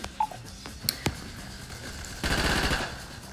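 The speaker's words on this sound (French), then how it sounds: "j'ai une arme qui mitraille" Rapid automatic gunfire from a machine gun in the shooter video game Hypershot, a burst of quick repeated shots sounding loud and close after a few scattered single clicks and bangs.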